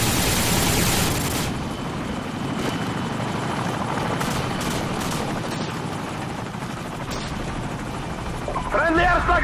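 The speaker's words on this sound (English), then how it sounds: "Friendly helicopter on the way!" Helicopter in a Call of Duty style team deathmatch on the map Crash, a loud continuous rotor roar with scattered gunfire cracking through it, under game announcer voices.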